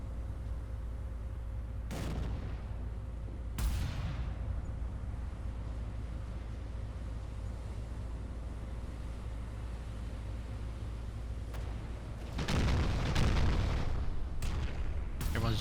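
Naval gunfire in the warship game Battleship Command as ships concentrate fire on the Dora: heavy booming shots in separate bursts, a couple early and a denser cluster near the end, over a low, constant rumble.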